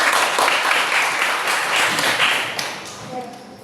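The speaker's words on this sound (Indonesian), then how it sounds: "give applause for Yasmin" A classroom of students claps for a classmate, a lively, moderately loud round of applause that gradually tapers off, with a bit of voice mixed in near the end.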